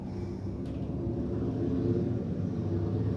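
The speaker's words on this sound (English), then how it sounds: "I do live on a busy street and there's cars" Steady low traffic rumble from vehicles going by on a busy street outside, a continuous droning wash with no voices over it.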